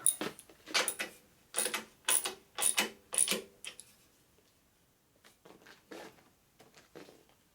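A wrench clicking as it turns a bolt on a 2001 Gilroy Indian motorcycle being rebuilt as a race bike, a quick run of close ratcheting bursts followed by fainter, slower clicks.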